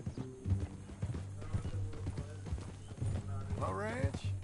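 Horse hooves clip-clop in Red Dead Redemption 2, a steady rhythmic plod close by, with voices talking over it and a brief whinny near the end.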